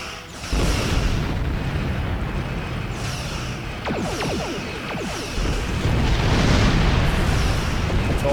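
Heavy booming torpedo explosions in the Star Trek Online space game, a continuous rumbling blast with several swelling impacts and whooshing streaks layered over one another.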